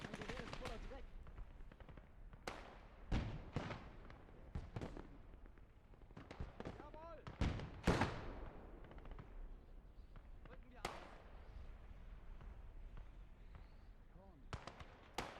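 MG42 machine guns in a Gates of Hell: Ostfront PvP battle rattle out in sharp bursts among scattered booms and shots, with a voice talking over the clamor.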